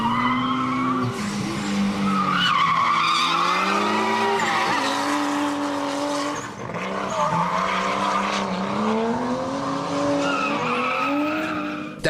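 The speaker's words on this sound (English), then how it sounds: "Just to prove the Aussies really can drift in the dry, we included some footage from a week earlier at a practice session at Malala" A car drifts at a dry practice session at Mallala, tires squealing in long wavering screeches over a revving engine, loud and close, with brief dips and repeated squeals as it slides.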